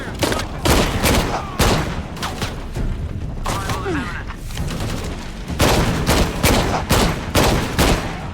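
Heavy recoiling gun firing in Shadow of the Tomb Raider, loud repeated bursts of shots in several clusters with booming tails, close and dominant, with brief voices between.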